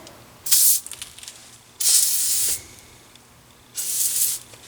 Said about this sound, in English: Let's try spraying it with some lubricant. So we're just going to give it a quick blast with blaster.